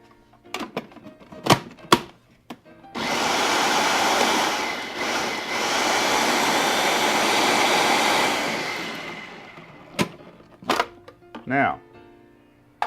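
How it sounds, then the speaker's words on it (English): Blender pureeing strawberries with simple syrup into a sauce, a loud whirring roar lasting about seven seconds, with clicks and handling knocks before and after. "Now I'm going to puree this mixture."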